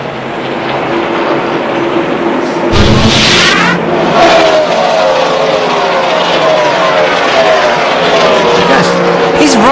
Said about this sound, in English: He's running about 140 miles an hour backwards at this point right now.